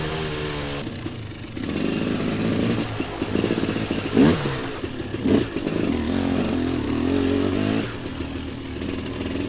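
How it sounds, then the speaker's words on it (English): A motorcycle on a winter trail ride, its engine revving in short bursts as it pops over obstacles, with clattering and scraping from the terrain between throttle blips, loud and close. "I love how this bike, you just barely blip the throttle and it just pops right up over everything"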